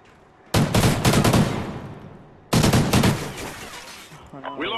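Gunfire in the video game Call of Duty: Ghosts, two loud rapid automatic bursts, each a few seconds long and close, with a short electronic sound at the end.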